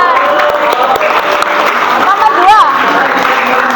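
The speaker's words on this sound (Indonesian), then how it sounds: "Kasih tepuk tangan" A crowd of audience members applauds during a prize announcement at an event, a dense clapping wash heard close and continuous under a person talking over it.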